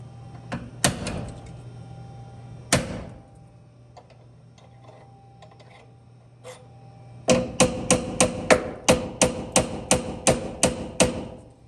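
A hammer striking a punch against a door hinge pin on a 1977 El Camino, a few scattered sharp metallic blows followed by a steady run of about ten evenly spaced, ringing whacks.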